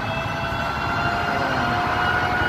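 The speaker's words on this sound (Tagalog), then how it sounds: "Kasi yun yung ambulansya. Yung fire truck pala. Paparating na." A fire truck siren wails over a steady, loud roar of city traffic during a fire near Black Belt in Mandaluyong, the siren tones running continuously without voices.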